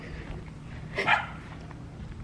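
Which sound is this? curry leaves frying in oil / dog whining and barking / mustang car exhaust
dog whining and barking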